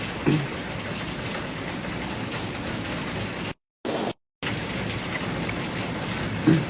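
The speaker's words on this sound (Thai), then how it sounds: "ที่นี่ฝนตกนะแม่ดู" Steady rain pours outdoors in dense, even hiss, loud and unbroken apart from two brief dropouts, with no voices heard.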